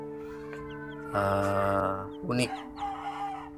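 Chickens at a backyard coop where a hen has just hatched chicks: a rooster crows loudly nearby with clucking around it, and a voice briefly talks over the birds.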